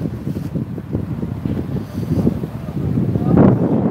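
Gusty wind on the Las Vegas Strip buffets the microphone in a steady low rumble, swelling louder toward the end, with faint indistinct voices underneath.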